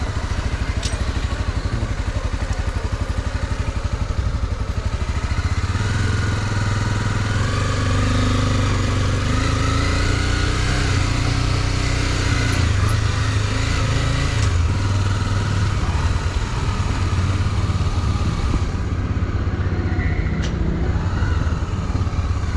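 Motorcycle ride through a Mexican village, with a steady loud engine drone and wind rumble throughout, close up and continuous, with no talking.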